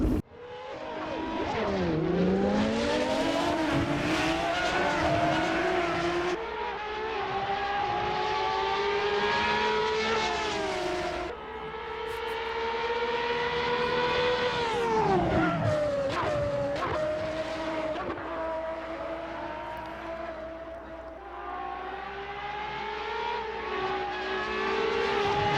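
A Ferrari F50 engine in the racing game Assetto Corsa sings loud and close, its pitch climbing through the gears in steady sweeps with sharp shift drops, along with some tire squeal.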